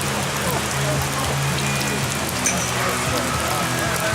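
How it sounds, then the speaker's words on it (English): Steady rain falls outdoors during a wet-weather match, a dense, even hiss of drops pattering on surfaces close by that continues throughout without a break. "Digging in the rain."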